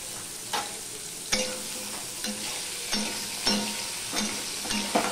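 Pieces of mankachu (giant taro) fry in a pan with a steady close sizzle, broken by repeated scraping stirs about every second, with no one talking.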